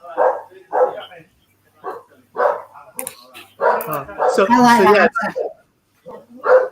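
A pet dog barks at home during a relaxed conversation, its short barks mixed in with and partly masked by steady talking nearby.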